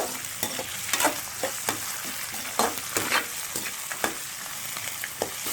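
Onions, tomato and green chili sizzle in a pan while being stirred for a Malaysian-style prawn biryani, a steady hiss broken by regular scraping strokes of the spoon.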